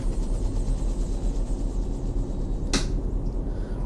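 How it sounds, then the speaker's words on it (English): A helicopter flying overhead in American Truck Simulator, a low rhythmic rotor thump pulsing steadily throughout, joined by a brief sharp whoosh near the end. "Oh, helicopter overhead. You hear that."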